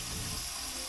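Hot and cold water running from the taps on a boat, a brief, steady close rush of flowing water with no voices.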